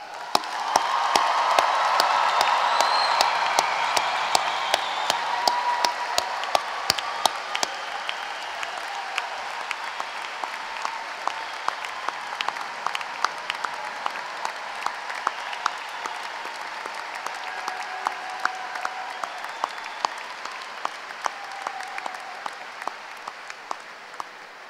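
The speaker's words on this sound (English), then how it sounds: "let's give a huge round of applause to our graduates" A large audience at a university commencement ceremony applauds the new graduates. The applause starts as a loud, dense swell, then thins over about twenty-five seconds into scattered individual claps that trail off gradually.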